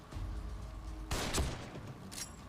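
Gunfire in The Evil Within, a horror video game: a couple of sharp, close shots with crackling bursts over a low rumbling game background, fairly quiet overall.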